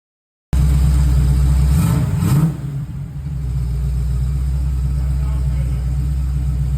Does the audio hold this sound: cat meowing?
no